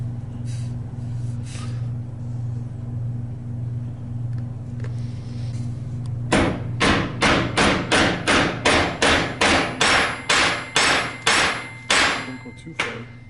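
Hammering a pin into a rebuilt GM door hinge: about fifteen sharp metallic hammer strikes in an even, steady rhythm, close and loud, coming after several seconds of a low engine-like hum.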